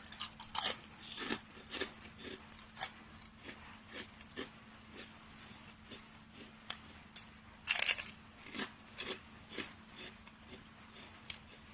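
Fried crispy mackerel rice crackers are bitten and chewed, producing sharp, close crunches at irregular intervals with two louder bites among softer chewing.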